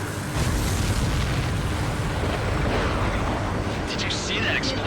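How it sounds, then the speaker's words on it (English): A deep, rumbling explosion of an enemy supply ship in the flight combat game Ace Combat 7, a sustained low boom with crackling debris, heard under a voice talking. "Did you see that explosion?"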